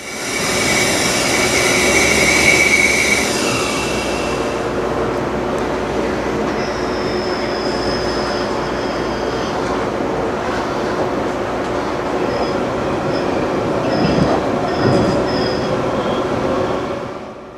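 A train rolls across rail yards run by the Fort Worth and Western Railroad on the old Cotton Belt line, a steady loud rumble of wheels on track with high squeals of wheels on rails coming and going throughout.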